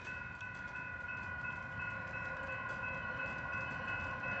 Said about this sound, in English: it looks like it might be a freight train with just a ton of intermodal on it